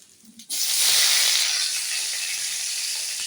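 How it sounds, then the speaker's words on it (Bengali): Potato pieces hit very hot oil with a sudden loud hiss that swells into a steady, bright sizzle and slowly eases, with no voices. "আগে আলুটা দিই তেল আমার অনেক গরম"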